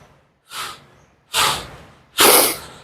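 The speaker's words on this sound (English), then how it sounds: "breathing hard, he's going, I believe, in through his nose, out through his mouth" Heavy breathing during push-ups and squats, three forceful breaths growing louder each time, close and alone with pauses between them.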